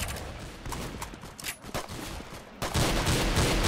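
Gunfire from a shotgun in the Roblox game Arsenal, a dense run of sharp, loud shots and impacts with a heavier continuous burst of noise near the end, no talking.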